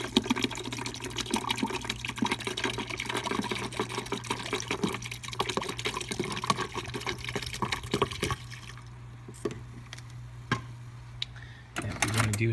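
Keurig descaling solution poured from a bottle into the coffee machine's water reservoir, a steady close liquid stream with a faint constant hum underneath, easing off toward the end with a few small ticks and clunks.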